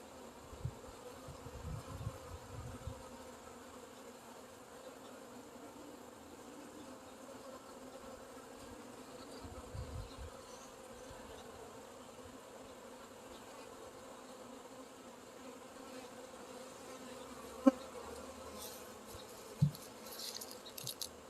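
Bees from a hive on a porch buzz as a faint, steady, low hum throughout, with a few soft thumps and brief knocks near the end.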